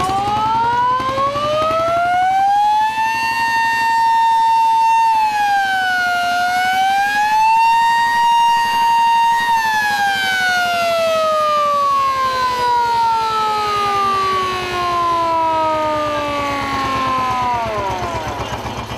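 A loud wailing siren signaling the start of threshing at a threshing reenactment rises, dips and rises again in long sweeping tones, then slowly winds down, sounding alone and close for nearly twenty seconds.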